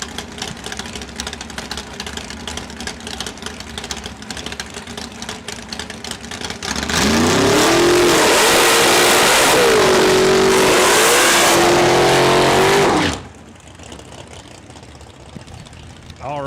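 Drag race cars launch down the lanes at Saskatchewan International Raceway during test and tune, a loud roaring rev burst lasting several seconds before dropping away, with a 1965 Plymouth Belvedere among the racers and a track announcer talking before the run.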